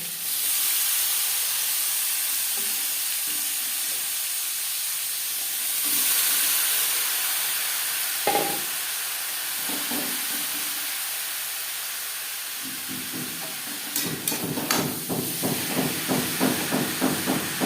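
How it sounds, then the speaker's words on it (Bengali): Grated radish tipped into hot oil with fried nigella seeds and slit green chillies, giving a steady broad sizzle and hiss throughout, with a few clinks and scraping knocks of a spatula near the end. "কালো জিরে ভেজে নেওয়ার পর দিয়ে দেবো গ্রেট করে রাখা মূলো"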